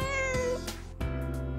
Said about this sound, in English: Will you pet the cat?